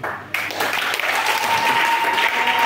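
A church congregation breaks into loud, sustained applause and cheering that swells quickly and fills the room, with voices calling out amid the clapping.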